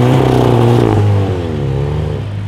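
A VW Golf 8 engine revs up hard and holds against a rev limiter set near 3800 rpm, giving a loud, buzzing, steady drone that wavers, then the revs fall away and fade.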